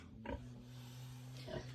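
A sow recovering after treatment gives two short, low grunts about a second apart, close by and fairly quiet, over a steady mechanical hum.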